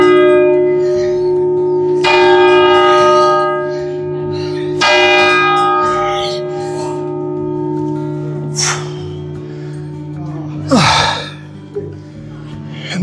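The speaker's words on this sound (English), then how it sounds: "And there's the bell that was ringing" A church bell in Switzerland rings with long, resonant strokes that hang in the air, heard from nearby with occasional breathing and movement noises.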